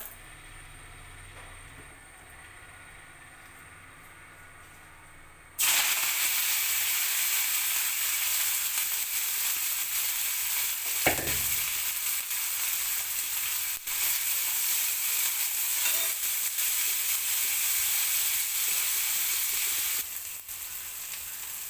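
Chopped onion and salt sizzle loudly in hot oil in a pan, a quiet lead-in giving way to a sudden, steady, close frying hiss that continues to the end.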